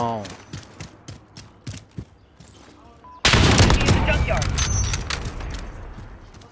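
Video game gunfire erupts midway as a loud, sustained burst of rapid shots and blasts, following scattered softer taps and clicks, with voices talking over the action.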